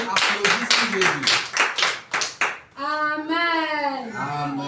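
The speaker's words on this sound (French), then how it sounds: "Applaudissez Jésus." A church congregation at a Monday evening prayer service in Lomé, Togo claps in rhythm, loud regular beats for a few seconds, then gives way to sung or chanted voices.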